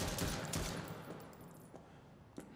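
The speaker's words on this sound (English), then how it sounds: "How many times do we have to shoot it?" Gunshots fired in the video game Sybil Coal, a burst of dense shots at the start that fades into a quieter tail, with a sharp single shot near the end.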